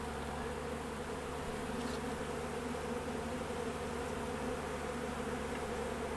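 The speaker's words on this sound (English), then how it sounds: "Well, that's quite a sight. A robbing frenzy going on." Honeybees in a robbing frenzy around a hive make a dense, unbroken buzzing drone. The swarm sounds close and steady throughout, with no voices.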